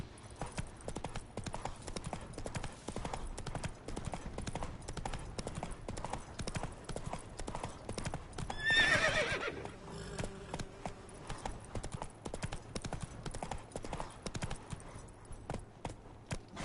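Roach, a horse in The Witcher 3, gallops with steady, close hoofbeats. One whinny rises briefly midway.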